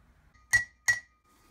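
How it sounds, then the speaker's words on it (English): Seal being driven into a brake rotor hub on a Falcon disc brake swap, heard as two sharp metallic taps about a third of a second apart, close and crisp against near silence. "We'll drive that seal down in there."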